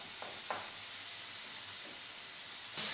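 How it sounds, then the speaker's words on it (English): Mascarpone being stirred into courgette risotto in a pan on the heat, a steady close hiss and sizzle with a few soft spoon scrapes, no talk. "just stir our cheese right through, make sure it all melts into it"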